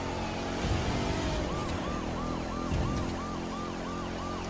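Police car siren wailing in The Crew 2 racing game, a repeating rising-falling electronic wail over a steady engine drone, loud and close throughout with no talking.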